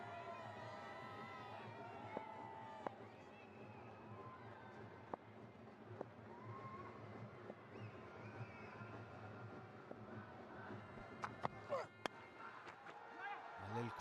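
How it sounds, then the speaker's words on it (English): A large stadium crowd at an India versus Pakistan legends cricket final, a steady distant murmur and chatter with occasional sharp knocks, heard quietly beneath a commentator's voice. "God, there's a fair bit of crowd here."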